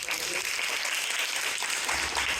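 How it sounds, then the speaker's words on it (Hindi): Applause at a Guru Purnima school event for a top-scoring student who earned full marks in geography: dense, steady clapping from a crowd, fairly close and sustained throughout. "तो एक बार जोरदार तालियां।"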